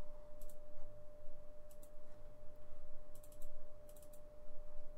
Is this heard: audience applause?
no